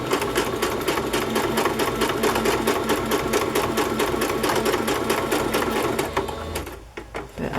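A sewing machine stitches with its bobbin running, giving a fast, steady mechanical chatter heard up close and alone that carries on evenly before stopping near the end.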